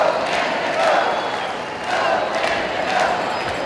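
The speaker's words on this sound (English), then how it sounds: "The cheers out there. It's unbelievable." At a world curling championship in North Bay, Canada, a large indoor crowd cheers and roars continuously, a dense wash of voices swelling and easing in loud, reverberant waves.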